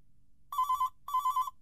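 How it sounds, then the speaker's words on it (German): Two short bursts of an old Nokia mobile phone ringtone in a video game, each a quick run of bright electronic trilling notes, clear and fairly loud against near silence. "Und vom Handy geweckt."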